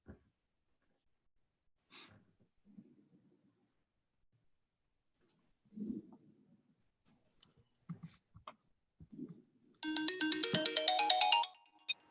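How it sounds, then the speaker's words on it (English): A telephone rings near the end with a bright, pulsing electronic trill lasting a couple of seconds, in a quiet meeting room where faint breathing and small movements are heard before it. "I'm catching the phone for the chamber as well"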